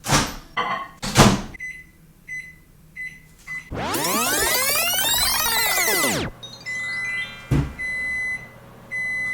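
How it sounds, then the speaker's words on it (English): A microwave cooking a cake in a cup clunks shut and beeps as buttons are pressed, then hums quietly while it runs, with a few more electronic beeps along the way. "2 minutes and 10 seconds in the microwave. Let's do it."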